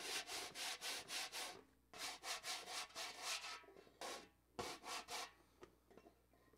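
Fingers or a tool scratch across the wooden top of a banjo, picked up by a piezo pickup, in rhythmic rasping strokes grouped in quick runs with short pauses, fairly faint and alone.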